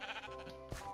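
A Minecraft sheep gives a short, nasal bleat, close and clear, lasting about a second over faint game background.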